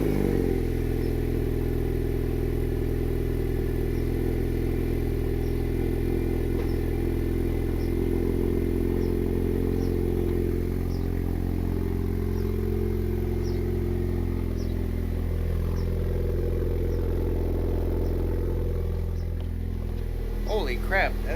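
A turbocharged Honda Civic R18 with the muffler deleted and a small exhaust idles close by, a steady loud low drone with faint clatter and a slight rev near the end.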